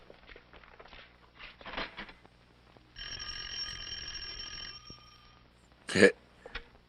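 Telephone bell ringing in an old-time radio comedy broadcast, a steady harmonic ring lasting about two seconds in the middle, set between stretches of quiet talk and a sharp knock-like hit near the end.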